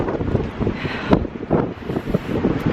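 Strong gusting wind buffets the microphone outdoors, a loud, rumbling, uneven roar with irregular bursts and thumps throughout.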